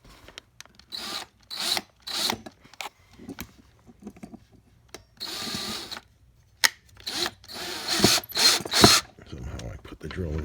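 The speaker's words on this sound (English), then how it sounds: "Somehow I put the drill in reverse." A power drill bores a hole into wood while building a car under-dash creeper with a self-locking hinge, running in several short bursts with pauses between them, close and fairly loud.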